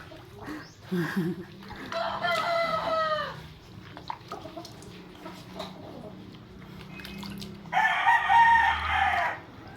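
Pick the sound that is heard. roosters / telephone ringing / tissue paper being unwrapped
roosters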